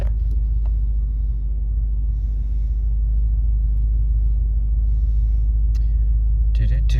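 A cold car engine idles with its hood up, a steady low rumble held throughout at close range, while a voice speaks intermittently over it and a few brief clicks sound near the end.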